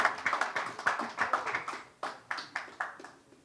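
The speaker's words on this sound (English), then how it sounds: "big round of applause for Himanshu Devaskar." Claps at a press conference for a pickleball event, a sparse run of distinct sharp claps from a few hands, fairly close and irregular, fading toward the end.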